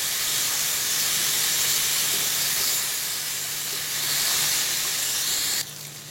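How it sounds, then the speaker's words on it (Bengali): Spice masala being sautéed with a little water in a pan for boiled egg bhurji, giving a steady, close broadband sizzle and hiss that runs continuously and drops slightly in level near the end. "মশলাটা আমি খুব ভালো করে কষিয়ে নিয়েছি।"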